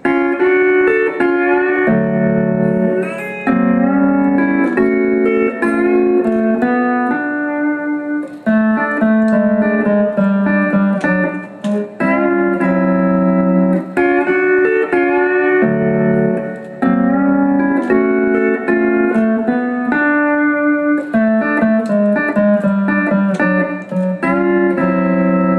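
Pedal steel guitar playing a Faux C6-style 1-5-1 intro tag in D, with sustained, gliding chords and slides, struck repeatedly in a steady phrase, loud and close with no talking.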